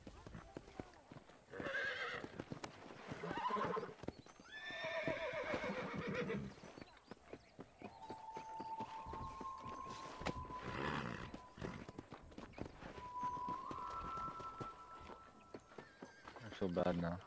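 A horse in Red Dead Redemption whinnies and snorts, with hoofbeats clattering at intervals, while a player talks over the game sounds.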